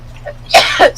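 A quick close sneeze lands as two sharp breathy bursts in rapid succession, loud against a low background hum.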